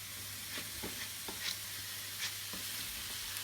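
Onions, tomatoes and green chillies frying in a pan for paneer bhurji make a soft, even hiss with a few faint taps of stirring over a low steady hum.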